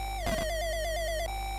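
A Hogan's Alley NES shot-hit sound effect: a short burst of noisy impact followed by a bright descending electronic warble that steps down in pitch for about a second, a clean synthetic chiptune tone heard alone.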